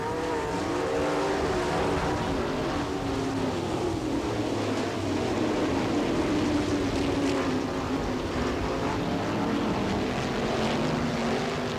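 Several 410 sprint cars roar around a dirt oval at Attica, Ohio, engines blending into a loud, continuous, droning wash of sound throughout the field's opening lap, with no voices.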